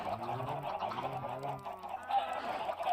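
A crowd of Minecraft chickens, video game poultry, clucks and squawks continuously in overlapping calls, steady and close, without speech.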